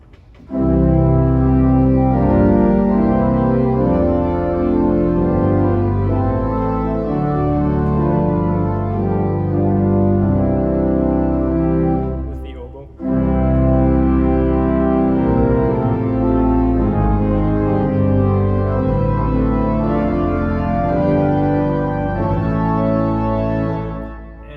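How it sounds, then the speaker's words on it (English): Pipe organ playing a full, sustained chord progression with all of its 8-foot stops drawn together, loud and rich, with a brief pause near the middle before the chords resume. "And so all of the 8-foot stops of the organ together sound like this."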